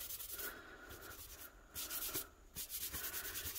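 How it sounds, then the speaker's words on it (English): A rag soaked in rubbing alcohol rubs over a blue glitter mug, a close, steady gritty swishing that surges in strokes with brief breaks between passes. "I'm gonna grab a couple rags and some regular rubbing alcohol and just"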